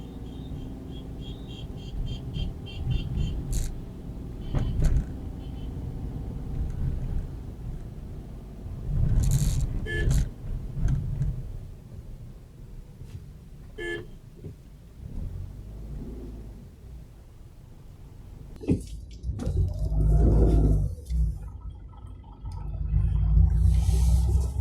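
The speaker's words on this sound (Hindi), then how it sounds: "प्रॉब्ली आपको गाड़ी की आवाज़," Steady low engine rumble inside a moving 2019 Tata Tiago XZ+ at about 2000 rpm, continuous throughout with occasional louder surges and bumps.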